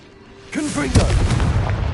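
A blasting-spell explosion from the Hogwarts Legacy video game bursts with a sharp boom about a second in, following a brief shouted voice, then trails off into a rumbling tail.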